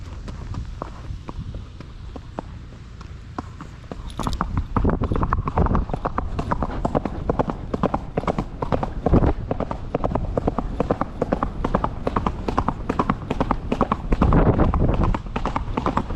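Steady clip-clop of horse hooves on a hard surface, picking up into a quicker, louder running rhythm that continues throughout, with faint background voices.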